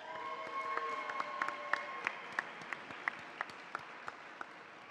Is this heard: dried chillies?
no